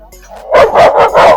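A dog barks fiercely beside a fence along a railway construction line, four loud, close barks in quick succession after a brief quiet start.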